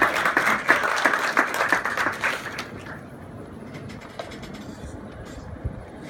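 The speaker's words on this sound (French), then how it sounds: "Des applaudissements s'il vous plaît." Audience applause at a bankers' conference ceremony, moderately loud clapping for under three seconds that fades into quiet room noise.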